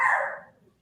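A puppy gives a single short, bright bark that fades quickly, alone and fairly close.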